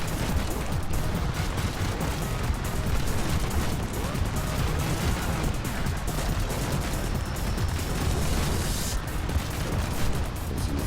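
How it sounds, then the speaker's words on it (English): Cannons on a built vehicle in the game Trailmakers fire in a dense, continuous barrage of booming shots, loud and close throughout, with no speech. "The cannons in the back are set to Q and auto toggle."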